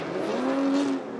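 Chris Forsberg's NOS Energy Drink Nissan 370Z drift car screams at high revs with its tires squealing in a continuous, loud, near pass lasting about a second.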